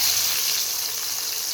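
Bitter gourd chips fry in hot oil on a gas stove, giving a steady, bright hiss of sizzling that stays close and continuous with no talk.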